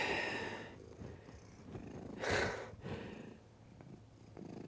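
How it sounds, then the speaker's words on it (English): A cat purrs while walking across a bed indoors, a soft steady rumble that continues throughout, with a brief brighter rustle midway as it moves over the bedding. "here comes a cat again walking on the bed."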